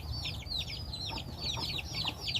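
Chickens on a farm, several birds sick with a cold, cluck repeatedly in short high calls at a moderate distance over a low steady background hum.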